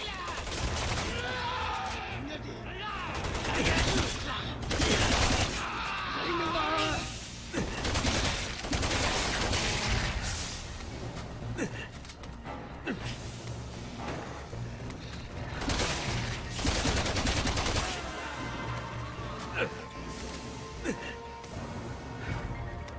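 Sustained gunfire in Resident Evil 6: dense volleys of loud, close shots and crashing impacts repeat throughout, with voices talking between the bursts.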